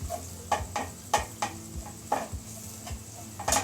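A spoon scrapes and knocks against a pot while oatmeal goto porridge is stirred, with a steady run of short, close clinks and scrapes and no talking.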